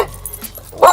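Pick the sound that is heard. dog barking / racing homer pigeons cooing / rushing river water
dog barking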